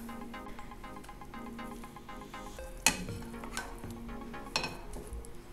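A flipped tuna omelette keeps frying in a pan with a steady sizzle, while a utensil clinks and scrapes against the cookware a few times.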